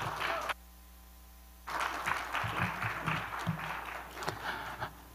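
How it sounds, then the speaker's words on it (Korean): A church congregation at a Friday prayer meeting claps to welcome the pastor. The applause breaks off for about a second and then resumes as a fairly quiet, uneven patter. "목사님 나오실 때 사랑합니다, 존경합니다 라는 의미로 박수로 맞아주셨으면 좋겠습니다"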